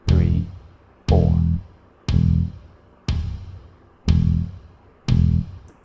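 Bass guitar notes struck on beats one, three and four, six deep plucked hits that decay between them in an even pulse, close and alone with no talk.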